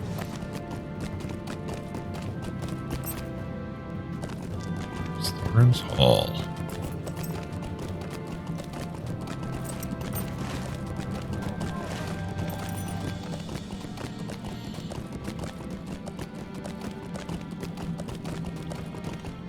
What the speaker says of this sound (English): it's so big that they let you ride your horse in here